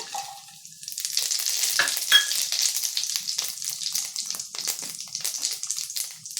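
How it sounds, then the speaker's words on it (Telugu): Whole garam masala spices sizzle and crackle in hot oil in a pan, with a steady bright frying hiss and occasional stirring scrapes, loud and close throughout. "ఇంకా ఆయిల్ వేడైంది ఇప్పుడు హోల్ గరం మసాలా వేసేసుకున్నాము"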